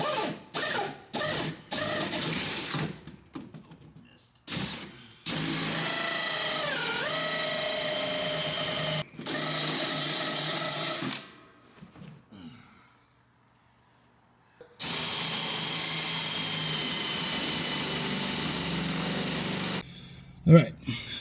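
A power drill whirs in several bursts, some short and choppy, others long and steady, grinding through a pickup truck's metal bed up close with quiet gaps between.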